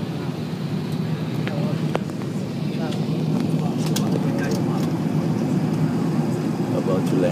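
Steady cabin rumble aboard an Airbus A380 descending toward Hong Kong, a broad low roar of engines and airflow with faint clicks and rustles, holding constant throughout with no voices.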